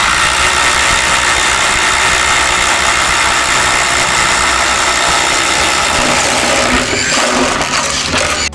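A Ryobi impact driver set to impact mode 3 hammers a screw in, a loud, dense, continuous rattling blast held close for several seconds before it cuts off.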